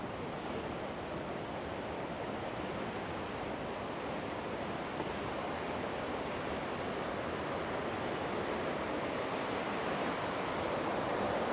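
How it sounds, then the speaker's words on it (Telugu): A small waterfall in Switzerland pours in a steady, dense rushing roar that holds at an even level throughout, close and unbroken, with no voices. "ఇక్కడ చిన్న వాటర్ ఫాల్ ఉంది."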